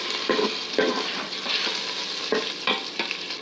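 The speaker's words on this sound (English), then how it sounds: "I'm not gonna throw it all in there because the object here is to get it browned" Steak pieces browning in a hot pan sizzle steadily up close, broken by several short scraping stirs, with no speech.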